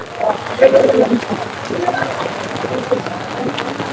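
Heavy rain falling outside a temple, a steady hiss of drops on surfaces under people talking nearby.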